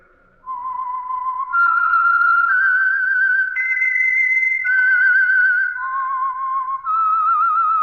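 Signature whistle signal of the Signal Oil radio mystery program The Whistler: a lone, clear, loud whistled melody of sliding, sustained notes rising and falling, with no talk.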